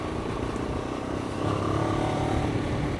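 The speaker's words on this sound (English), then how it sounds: "it's got quite a blary exhaust note. Hasn't got that 270-degree thumping character" Moto Morini X-Cape 700 motorcycle exhaust, a loud, steady blary drone without a thumping beat, swelling slightly halfway through and running continuously with no voices.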